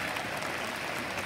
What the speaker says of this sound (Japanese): 皆さん拍手してやってもらっていいですか。